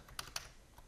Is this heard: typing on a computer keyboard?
yes